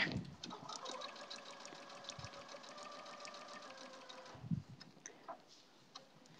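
Sewing machine chain piecing quilt fabric triangles one after another, a steady rapid stitching rattle running continuously for about four seconds, then stopping with a few faint handling clicks.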